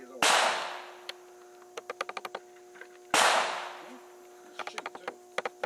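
Two loud, sharp gunshots ring out at an outdoor shooting range in Winamac, Indiana, about three seconds apart, each trailed by a quick cluster of smaller metallic clicks and clatters.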